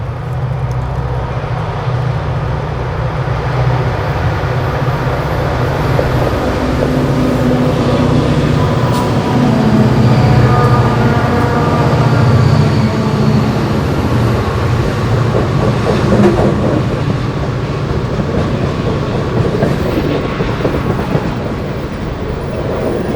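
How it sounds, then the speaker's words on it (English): Reading & Northern freight train rumbling out of a 140-year-old stone tunnel portal, a heavy continuous roar with faint clattering wheels and a gust of rushing air, steady and loud throughout. "the train pushes a gust of air out of the tunnel as they exit the 140-year-old stone"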